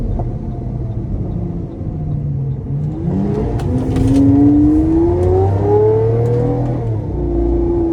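A 2012 Lamborghini Aventador LP-700 drives with a steady, loud close-up engine rumble, then the revs climb in a rising whine as it accelerates, with no talking.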